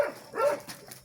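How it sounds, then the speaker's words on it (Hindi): A village dog in Azad Kashmir gives two short barks close by, the second louder, with brief quiet between. "ये कुत्ते की आवाज़ है।"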